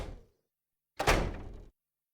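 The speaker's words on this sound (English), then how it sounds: "Yes, that's the sound of a door closing." A single door closing: a short thud with a brief rattling tail, heard alone after a faint earlier sound and followed by silence.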